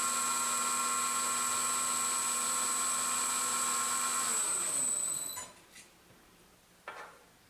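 A metal lathe facing off a blank runs with a steady high whine and ringing tones for about five seconds, then spins down into near quiet with a couple of faint knocks.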